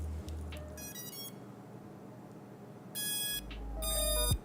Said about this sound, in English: It's so cute, it still has the little ESC sounds.